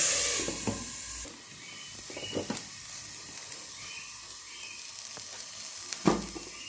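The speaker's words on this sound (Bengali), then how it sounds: "একটু ভাজা হোক আমি দু মিনিট ঢাকা দিলাম" Cauliflower frying under a lid in a covered pan, a soft muffled sizzle with a few sharp knocks and clatters scattered through, close and quiet with no talk.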